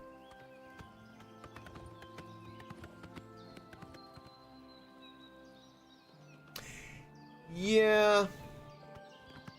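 A horse in the video game The Elder Scrolls IV: Oblivion clip-clops along at a walk, with a loud whinny near the end, while someone talks briefly over it.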